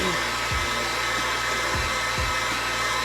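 A hair dryer blows steadily and loudly at close range, drying a chalk transfer craft piece, with a constant whooshing hum and a few faint low bumps underneath.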